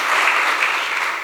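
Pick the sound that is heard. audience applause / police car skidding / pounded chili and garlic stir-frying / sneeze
audience applause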